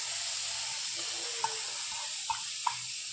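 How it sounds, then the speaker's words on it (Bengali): Chopped onion sizzling in a hot karai for veg momo filling, a steady soft frying hiss throughout with a few brief stirring clicks and taps, fairly faint and with no talking. "ওই কড়াইয়ের মধ্যেই এখন পেঁয়াজ কুচিটা দিয়ে দিলাম।"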